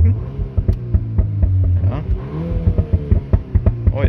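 A VW Golf 8 R fitted with an Akrapovic exhaust revs hard while stationary in Race mode with the flaps open, giving repeated sharp throttle blips and crackling pops close up, and a brief voice comes in once.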